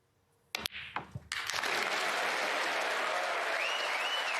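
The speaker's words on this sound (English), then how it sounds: "Listen to the crowd." Snooker crowd at a Scottish Open quarter-final breaking into applause after a century break, a few scattered claps first, then a sustained, dense wash of clapping that swells and holds loud to the end.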